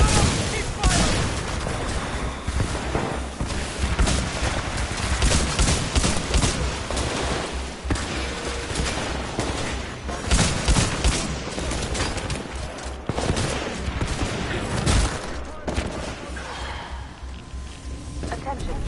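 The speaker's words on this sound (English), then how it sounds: "Keep firing!" Team Fortress 2 gunfire and blasts rolling almost without pause, a dense, loud barrage of shots and booms with voices shouting over the battle.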